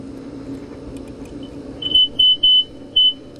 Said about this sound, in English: So that's the little buzzer again. It's making a sound.